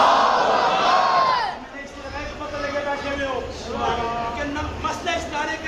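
A crowd at a Muharram majlis gathering in an imambargah chants a religious slogan in unison as a response, several loud, drawn-out collective shouts of many voices rising and falling.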